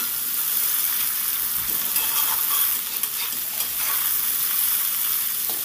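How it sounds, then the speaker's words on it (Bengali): Chopped onion stirred and fried in a pan with ginger and garlic for a spicy kundri dish: continuous close sizzling with scraping stir strokes running through it for several seconds, no voices. "পেঁয়াজটা দিয়েও সুন্দর করে নেড়ে চেড়ে একটু ভেজে নেব।"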